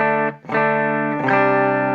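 An electric guitar plays a clean tone through an Orange Micro Terror MT20 amp: a ringing chord, a short gap, then two more sustained chords that ring out loudly with no talk.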